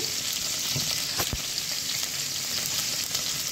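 Raw rice stirred in hot oil in a cooking pot gives a steady, close broadband sizzle with a few scraping stir strokes near the start, no voices.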